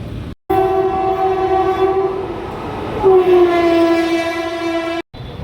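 At Guindy station in Chennai, a metro train sounds a loud, sustained tonal horn lasting several seconds that drops slightly in pitch partway through, then stops abruptly.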